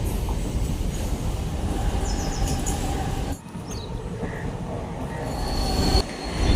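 A train rolls past close by near Belapur railway station, a loud continuous rumble of wheels with high metallic squeals, briefly easing midway before building again toward the end.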